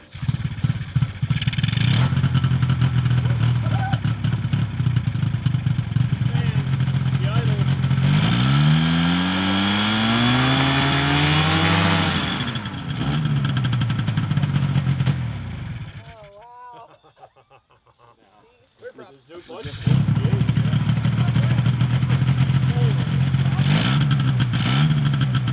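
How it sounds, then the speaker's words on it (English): A direct-drive, pull-start paramotor engine with no clutch runs loud and close, its pitch sweeping up through a rev before cutting out briefly and then resuming at a steady drone. "This is a pull start system. It's a direct drive and it has no clutch, but it was a pretty easy pull to get her running"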